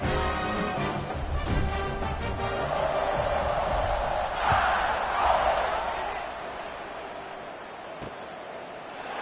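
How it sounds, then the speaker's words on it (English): Stadium crowd noise in the College Football 26 video game, a broad, steady roar of cheering fans that swells midway with scattered shouts, filling the background throughout. "this crowd is buzzing after that last score"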